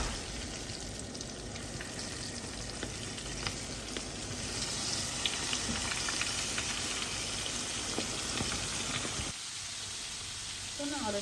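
Flour-coated shrimp frying in hot oil gives a continuous dense sizzle and crackle, steady and close, with occasional light stirring, before the frying cuts out near the end.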